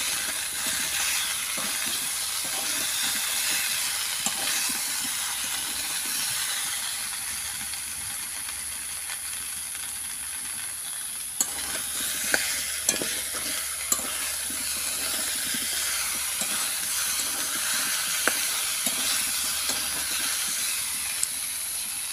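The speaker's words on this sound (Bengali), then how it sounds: "এইবার মশলাগুলোকে দিয়ে খুব সুন্দরভাবে একটু কষে নিতে হবে" Spices sizzle and fry steadily for a pumpkin curry, with a constant hiss and occasional sharp scraping clicks of stirring, loud and close throughout with no talking.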